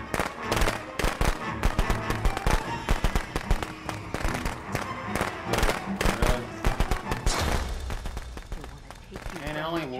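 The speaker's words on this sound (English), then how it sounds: "how many firecrackers do you even have?" Rapid strings of firecrackers pop and crackle in quick bursts, loud and dense, in a video game, with voices talking over the bangs.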